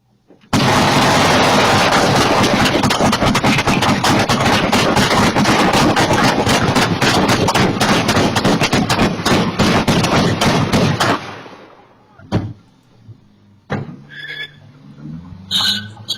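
About 150 rounds of real gunfire aimed at a home, recorded as a continuous, dense barrage of rapid shots for roughly ten seconds, then a few scattered, quieter bangs and noises as it dies away.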